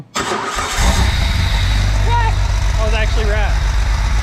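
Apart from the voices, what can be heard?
used car engine running on test after repair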